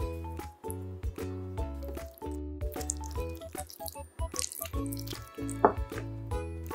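Wet, squishy mixing sounds with soft clinks and dripping, quiet and close, a spoon stirring thick microwave-cooked risotto in a hot bowl.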